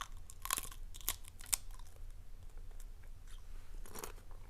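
Crisp, crunchy bites of Calbee honey butter potato chips from Hong Kong, several sharp crackles in quick succession, close to the ear, with quieter chewing between.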